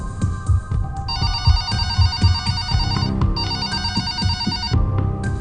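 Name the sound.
telephone ringing in police control room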